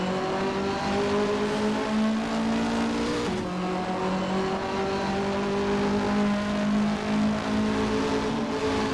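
A Cosworth-powered Mercedes touring car from 1985 to 1992 Australian racing, in Assetto Corsa, drones at high revs with a steady, buzzing engine note that drops briefly at a gear change before climbing again, loud and continuous.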